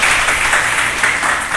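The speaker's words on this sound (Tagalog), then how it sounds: "Kaya isa nga pong palakpak para sa ating dakilang Ama" Congregation clapping at a Sunday worship service, a dense, steady round of applause filling the room for a moment.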